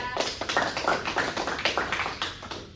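A small group claps for Mbak Dida during a classroom practice lesson for adult equivalency-program learners, giving a quick, regular run of sharp claps that stays close and steady for a few seconds.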